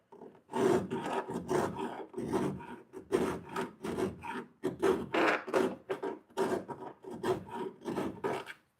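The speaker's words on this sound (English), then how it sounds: "So I'm only trying to cut on my pushing strokes." A hand file rasps steadily on pushing strokes only, widening an opening in metal on a 2005 Chevy Duramax for license plate camera connectors; about fifteen close, rough strokes in an even rhythm.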